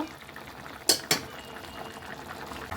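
Prawn and taro root curry simmers in a pot with a soft, steady bubbling hiss, broken by two sharp metal clanks of a utensil against the pan close together early on.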